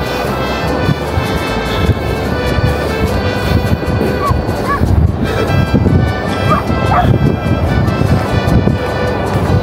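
Dogs bark and yip loudly outdoors on a walk near the shore in Zambales, nearly continuous under heavy wind rumble and steady background noise.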